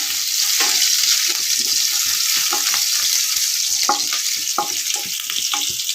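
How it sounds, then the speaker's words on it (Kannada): Garlic roasting in hot oil in a pan, a loud, dense, continuous sizzle with scattered pops and crackles throughout, no voices. "ಬೆಳ್ಳುಳ್ಳಿ ಒಂದು ಗೆಡ್ಡೆ ಬೆಳ್ಳುಳ್ಳಿ ಅದು ಚೆನ್ನಾಗಿ ಸ್ವಲ್ಪ ರೋಸಾಗಬೇಕು"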